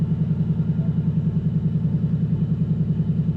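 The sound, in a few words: 2024 Ford Mustang GT S650 engine and exhaust in track mode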